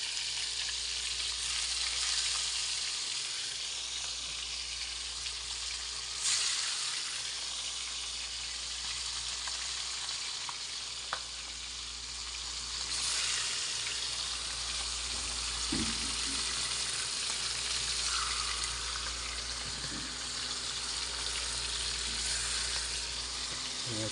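A whole fish fries in hot oil: a continuous, fairly quiet sizzle with a low, even hiss and occasional small pops that runs unbroken, with no one speaking.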